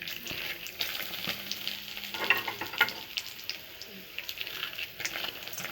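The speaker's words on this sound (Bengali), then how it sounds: "বড়িটা একটু ভাজা করে নেব।" Broken lentil dumplings (bori) fry with dried red chillies in hot oil in a wok, a soft, steady crackling sizzle with faint stirring scrapes, quiet and continuous.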